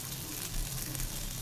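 Posto bora, poppy seed fritters, frying in hot oil, a steady close crackling sizzle with small pops throughout, no voices over it.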